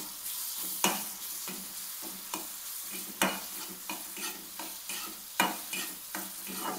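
Cumin paste for a kadam chutney sizzles hard in hot oil, close up, with regular scraping strokes of a spoon stirring it through the pan and no voices.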